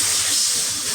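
Water poured into a hot pan of frying turmeric and chili powder spices sets off a loud, steady hiss of sizzling steam that fills the whole second without a break.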